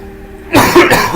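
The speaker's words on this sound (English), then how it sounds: "Sorry for the coughing." A couple of sharp, close coughs in quick succession after a brief quiet moment.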